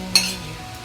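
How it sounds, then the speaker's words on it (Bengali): Egg fried rice tossed in a hot pan gives a brief utensil scrape and clink over a steady low sizzle. "হালকা জোর বাড়িয়ে ভালো করে ভেজে নিতে হবে।"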